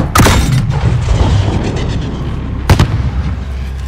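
Explosions and heavy combat in the Call of Duty: Modern Warfare campaign on PC, a loud rumbling barrage with sharp blasts near the start and again at about two-thirds through, over a constant low battlefield roar.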